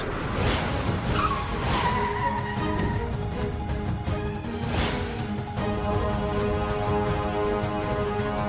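A car drives fast with engine noise and repeated sharp tire squeals as it skids, loud and close, with dramatic background sounds mixed in.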